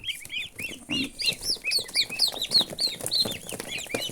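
Young turkey poults feeding on onion and cottage cheese, chirping continuously in a dense run of high, rising peeps close by, with soft pecking and shuffling underneath.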